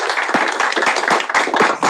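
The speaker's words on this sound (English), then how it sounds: "Please give another round of applause." An audience at a senate meeting applauds, a short dense burst of clapping from many hands heard close and loud, with no speech over it.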